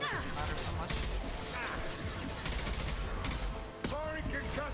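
Concussive shot being fired in the Mass Effect video game, with loud bursts of gunfire, impacts and combat effects packed together, while game voices speak over the action.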